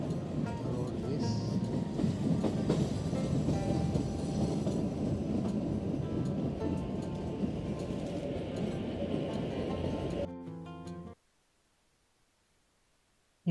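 A passenger train on the Kalka–Shimla route rumbles steadily along the rails, loud and close, with a rhythmic clatter, before the noise cuts off abruptly near the end.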